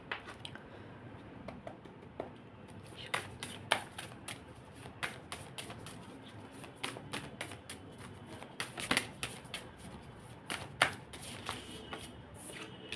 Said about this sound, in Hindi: सो जब तक मैं शफलिंग कर रही हूँ